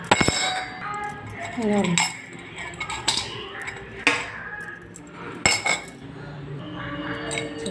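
A metal chakli press mould handled in a home kitchen, with a series of sharp clinks and clanks of metal parts knocking together, scattered irregularly under a woman's speech.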